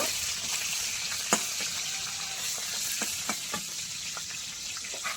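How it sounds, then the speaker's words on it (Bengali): Three catla fish heads fry in hot oil in a pan, giving a steady, close crackling sizzle broken by a few sharp clinks from stirring or turning. "মাছের মাথা ভালো করে ভাজা হয়ে গেছে"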